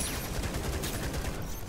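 Minigun fire in the video game Atomic Picnic: a dense, continuous stream of rapid gunshots that stays loud and steady from start to finish.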